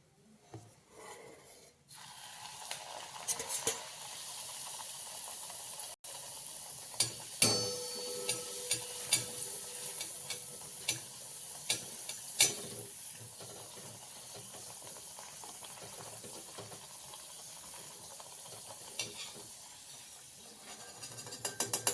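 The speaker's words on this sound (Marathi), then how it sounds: "मी अजून एक पुरी तुम्हाला तळून दाखवते" A puri fries in hot oil with a faint, steady hiss and sizzle, broken by occasional soft clicks and taps from handling in the pan.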